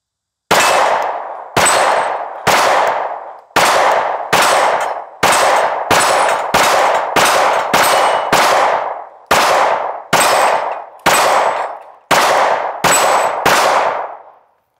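IWI Masada pistol firing 124-grain Winchester NATO ammunition outdoors, a steady string of loud, sharp single shots about one per second, each with a ringing decay and no voices.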